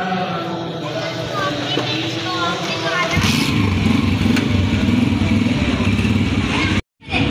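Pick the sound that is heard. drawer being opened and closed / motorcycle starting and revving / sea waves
motorcycle starting and revving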